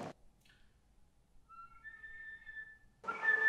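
A faint, thin flute whistle tone rises and holds briefly in near silence, followed by a short breathy burst at the end.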